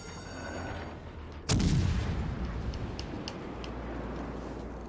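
Warship naval guns fire in the World of Warships video game: one heavy booming shot bursts out suddenly, followed by a long rumbling tail and scattered faint cracks, over steady game background noise.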